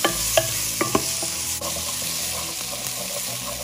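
Onions fry in a pan while being stirred, with several sharp clinks and scrapes of a utensil against the pan early on over a continuous close sizzle, no one talking.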